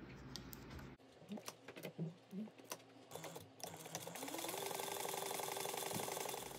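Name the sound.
sewing machine sewing a 3/8 inch seam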